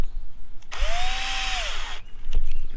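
A power drill driving screws back into a CEN F450 quadcopter frame, one loud whining burst of about a second and a quarter that rises and falls in pitch, with quiet handling noise before and after.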